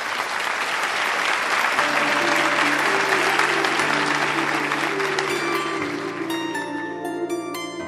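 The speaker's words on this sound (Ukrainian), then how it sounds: "Ваші бурхливі оплески." A crowd at the Podillia business elite gala in 2023 claps in loud, sustained applause, with music tones rising beneath it toward the end.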